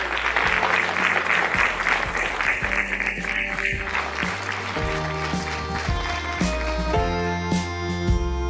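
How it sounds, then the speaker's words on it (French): Applause from an audience after an Acharya Prashant session, with steady clapping heard under upbeat music with a bass line and melody that grows more prominent as the clapping continues. "Alors, une grande salve d'applaudissements."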